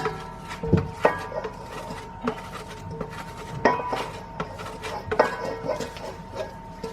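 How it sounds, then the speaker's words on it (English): Ingredients are grated by hand for a batch of scones in a home kitchen, giving scattered scraping strokes and clattering knocks at an uneven pace, close by and moderately loud. "So I'm just going to grate a little bit more here."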